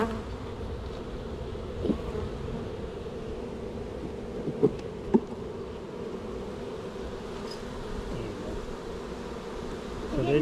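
Honeybees at an open hive during a honey harvest give a constant low, droning buzz throughout, with a few faint knocks and clicks over it and no voices.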